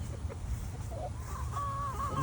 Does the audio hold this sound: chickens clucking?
yes